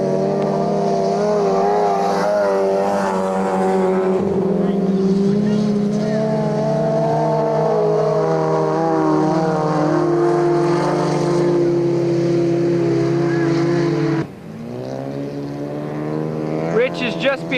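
Race cars at a 1998 ice race roar steadily nearby, engines droning and shifting pitch as they lap the frozen track. The sound cuts off abruptly near the end and a higher, rising whine follows. A commentator talks over parts of it.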